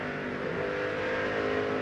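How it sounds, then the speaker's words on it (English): A race car engine at the 2006 Busch Silver Celebration 250 buzzes steadily under throttle at a distance, with the pitch rising slightly as the driver works the gas. "Hear him working the gas?"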